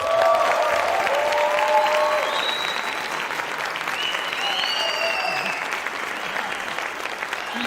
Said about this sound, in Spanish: Recibamos con un fuerte aplauso a Héctor Esquer.